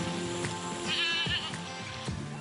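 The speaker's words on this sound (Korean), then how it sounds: "이 너른 산 들판을 제 집 안방 마냥 자유로이 누리고 있는 흑염소 떼를" Several black goats on a wide mountainside farm bleat close by, with a few overlapping wavering cries over a brief stretch and no talking.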